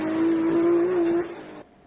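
A loud, close race car engine holds a steady high drone for over a second, then cuts off abruptly and fades out.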